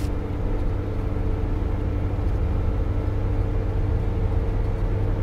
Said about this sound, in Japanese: 会話が途切れ、路面を舐めるタイヤの音だけが車内を満たした。